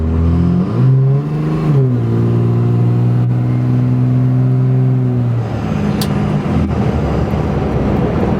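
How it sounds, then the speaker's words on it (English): A lifted 2003 Dodge Ram diesel 4x4 pickup accelerates along a road near full throttle, its engine climbing through gear shifts; loud, steady drone heard from inside the cab. "I wasn't full throttle, but it was pretty close."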